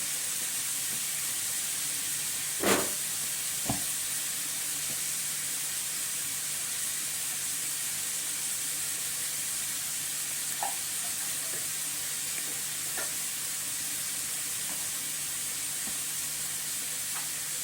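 Heart, liver and spleen frying in a pan, a constant hissing sizzle throughout with a couple of sharp knocks and a few faint utensil taps as the pieces are stirred.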